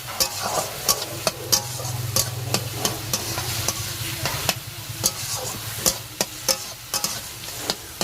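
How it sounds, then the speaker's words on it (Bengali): Bottle gourd shukto with turmeric being stirred in a pan, a steady stream of spoon scrapes and clacks over a low frying hum, close and fairly loud with no voices. "আর দিয়ে দেবো হলুদ দিয়ে একটুখানি ভালো করে নাড়িয়ে চাড়িয়ে নেবো"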